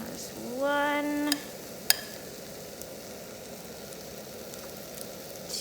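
Mushrooms and eggs fry in a pan for a full English breakfast, giving a steady close sizzle. A brief rising tonal whine opens it, and a couple of sharp clicks come through, with no talking.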